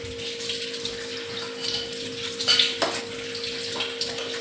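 Hibiscus tea is poured through a strainer into a small vessel, making a steady, close liquid trickle with a faint constant hum beneath. The pour swells slightly midway, with no talking.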